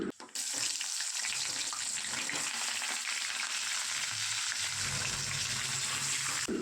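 Ridge gourd frying in hot oil tempered with nigella seeds in a wok: a loud, dense hiss of sizzling that starts abruptly and carries on steadily and close throughout.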